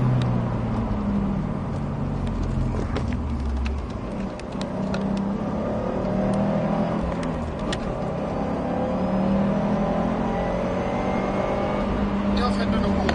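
A Subaru WRX STI driving and braking hard, its engine droning and shifting pitch steadily up close from inside the cabin, with people talking throughout.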